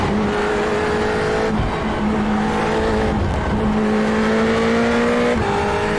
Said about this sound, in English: You can hear how much I'm on and off the throttle,